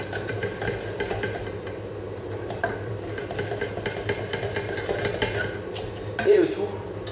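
A spoon stirs a spread mixture in a bowl, giving steady scraping and knocking throughout, with a slightly louder clatter near the end and a steady low background hum.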